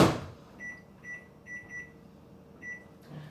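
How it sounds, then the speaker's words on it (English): A microwave oven hums quietly while steaming tangy shrimp under a lid, with a handful of short, evenly spaced electronic beeps and a faint click near the end. "I'm going to set my timer for 2 minutes."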